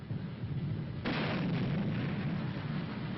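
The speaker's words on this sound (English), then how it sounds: "To get those first troops over, there's covering fire from the near shore." Covering gunfire and artillery from a near shore during a river-crossing assault rumble as a dense, continuous roar of distant blasts and shots, swelling louder partway through, with no voices.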